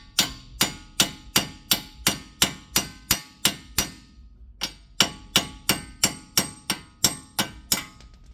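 Repeated hard metallic hammer strikes ring out in a steady rhythm, about two per second, as a car wheel stud is hammered out, with a brief pause midway before the blows resume.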